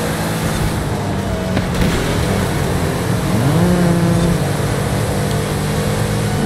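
A tuned Pagani Huayra BC hypercar in Forza Horizon 5 drones steadily at high revs under circuit driving, with a sustained loud engine note and one clear rising pitch sweep midway.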